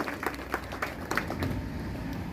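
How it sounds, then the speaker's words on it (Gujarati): An audience at a government disability aid scheme event in Dediyapada, Narmada, claps to welcome a guest, a moderate scatter of claps with a few sharper bursts, heard from some distance. "તાળીઓના ગડગડાટથી વધાવી લઈશું"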